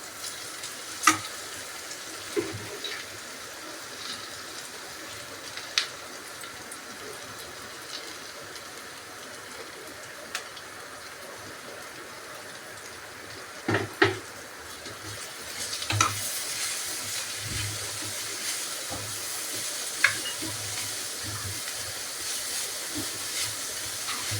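Tomato and carrot frying in a pan as sandwich filling, a steady soft sizzle and hiss running throughout with a few sharp clicks of a spoon or pan, brightening slightly toward the end.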